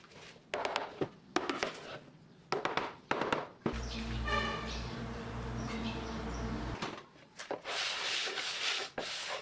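Laminate edges of a wooden display shelf being sanded or scraped by hand, a few short rasping strokes followed by a longer continuous grinding scrape, close and fairly quiet.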